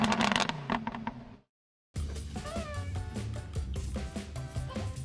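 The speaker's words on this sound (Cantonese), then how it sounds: "喂，你隻貓叫咩名啊" A male house cat meows indoors. Its drawn-out cries rise over a busy background, broken by a brief moment of silence.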